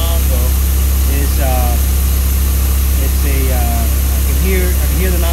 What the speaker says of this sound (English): I'm gonna go ahead and turn the pump on.